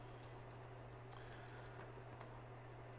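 Faint, scattered keystrokes on a computer keyboard tap irregularly over a steady low electrical hum, with no talking.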